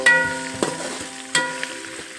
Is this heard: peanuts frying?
yes